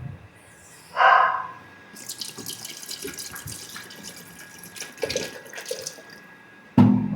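Tap water pours steadily into a vessel in a home kitchen while moringa soup is being made, a continuous splashing rush of several seconds after a short clink, with no talk.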